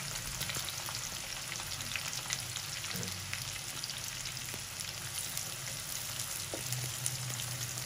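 Sliced onions fry in hot oil with whole garam masala for keema, a dense, even sizzle crackling steadily throughout with occasional faint stirring clinks and no speech.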